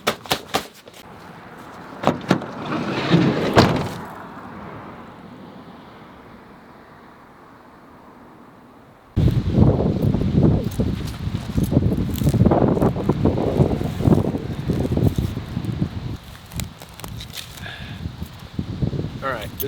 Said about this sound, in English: It's a little windy, but hopefully you can hear me just fine.